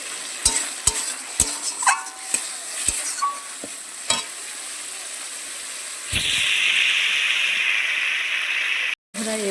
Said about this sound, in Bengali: কত সুন্দর তেল ছেড়ে ফুটছে দেখুন